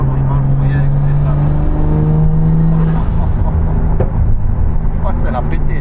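A Nissan Skyline R34 engine idles and revs loudly close by, a steady droning hum with rising pitch, voices faintly underneath.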